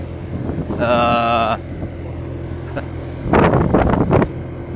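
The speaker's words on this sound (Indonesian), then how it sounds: "pakai motor cc kecil ini" A small-cc motorcycle engine drones steadily under buffeting wind while climbing a steep road, with a brief rising whine and bursts of louder rumble, close to the microphone.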